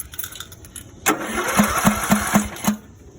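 A Craftsman riding mower engine cranks and fires up, starting with a few soft ticks and then breaking into a loud, near, chugging rhythm of even beats that cut off abruptly near the end.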